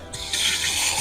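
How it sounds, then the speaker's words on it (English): Water gushes into a rose sprayer tank, starting with a brief trickle and then building into a steady, bright rushing flow that stays close and fairly loud. "So you have to keep filling the tank back up until it runs"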